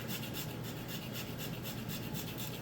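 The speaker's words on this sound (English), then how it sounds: "I'm just going to use my nutmeg grater here, but any microplane grater would do well" Whole nutmeg is grated freshly on a microplane-style nutmeg grater while cooking ricotta gnocchi with tomato, giving a soft, continuous rasping scrape in quick regular strokes, faint and close.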